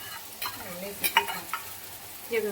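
Potatoes frying in a pan for homemade bhungra bateta are stirred, giving scraping spoon strokes and clatter over a steady low sizzle, with several sharper knocks spaced through the short stretch.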